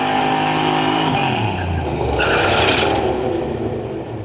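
A race car's engine revs hard while its tires spin without traction and the car hops. A loud roar drops in pitch, then a rough, squealing burst of wheelspin follows before fading slightly.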